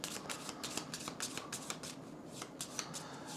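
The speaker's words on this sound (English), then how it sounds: "All right, the rest of these get shuffled." Board game cards being shuffled by hand at close range, a quick run of crisp riffling bursts with short pauses between them and no talk.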